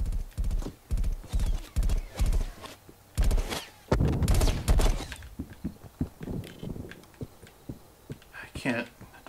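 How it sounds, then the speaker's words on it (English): Footsteps in Call of Duty Black Ops Cold War multiplayer thud in a loud, steady, rapid rhythm, continuing throughout with a brief voice-like sound near the end. "footsteps back here."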